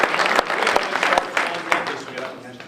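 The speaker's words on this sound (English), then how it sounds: "give yourselves a round of applause" An audience claps in a burst of applause, scattered hand claps rising and thinning out, with a voice speaking over it.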